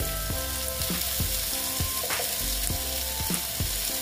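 Ridge gourd pieces fry in a pan for a moong dal dish, giving a steady crackling sizzle broken by regular stirring strokes and scrapes.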